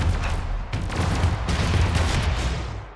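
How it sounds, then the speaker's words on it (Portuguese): Heavy gunfire in the video game Warframe, a dense continuous barrage with booming low end that rolls on for a few seconds, loud and close, broken by a couple of brief dips. "Tá atirando nele, mano, que doido."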